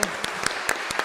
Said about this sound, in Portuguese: Então agora vamos dar o nosso aplauso, a nossa gratidão a Maria